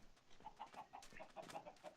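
Chickens in the Forever Stranded video game cluck in a quick, repeated run of short notes, faint and close together, with no talking.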